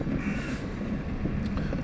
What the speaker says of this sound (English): a couple of magpies there as well